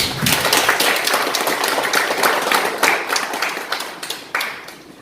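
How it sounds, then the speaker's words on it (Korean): The audience at a public debate claps to welcome the panelists, a close burst of applause with individual hand claps standing out, thinning slightly toward the end. "여러분들이 다시 한번 뜨거운 박수로 환영해 주시기 바라겠습니다."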